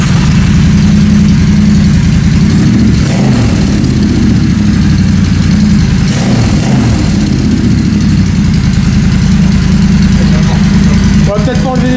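A Triumph Bonneville T120 motorcycle fires up for its first start and settles into a loud, steady idle with a low, throbbing rumble close by, with voices heard over it.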